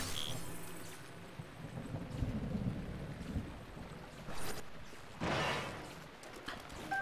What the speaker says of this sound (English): And then the lightning decides to redirect somewhere else.